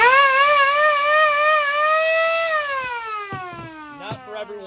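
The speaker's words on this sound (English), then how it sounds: "And the last one, the Impact siren horn." A battery-powered Impact siren horn wails loudly up close, a rising siren tone that holds steady and then winds down in pitch, with clicks and handling noises near the end.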